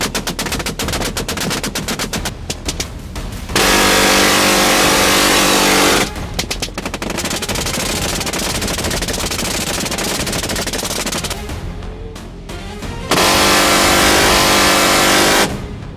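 Gunfire during a feral hog hunt: a rapid, loud burst of close shots, then long stretches of dense, sustained noise, another fast run of shots, and a final dense block, with no voices.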